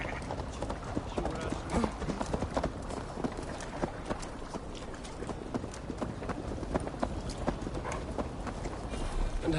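Steady clip-clop of horse hooves at a brisk trot in Assassin's Creed Valhalla, continuous and fairly close, with faint background sounds throughout.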